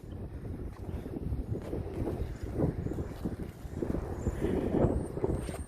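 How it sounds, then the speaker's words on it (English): Gusty wind buffeting a microphone outdoors while mowing four acres with a 21-inch push mower. It is a rough, fluttering low rumble that swells and eases in waves and is heard alone. "Wind's still blowing."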